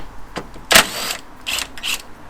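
A ratchet with a 12mm socket loosens the strut top nuts on a Subaru BRZ/GT86 engine bay strut tower. Close, short clicking and ratcheting bursts sound in quick spurts, one louder than the rest.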